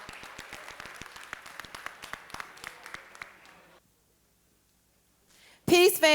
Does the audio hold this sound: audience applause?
yes